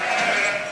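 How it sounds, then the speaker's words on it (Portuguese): A single sheep bleats loudly and close by, a wavering drawn-out cry lasting under a second. "as ovelhas recebem capim fresco e concentrado no coxo"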